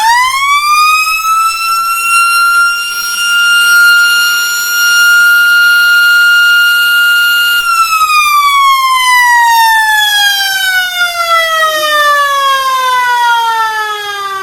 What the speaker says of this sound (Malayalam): അത് പാർക്ക് ക്ലോസ് ചെയ്യുന്നതിന് മുന്നേ അടിക്കുന്നൊരു സൈറനാണ്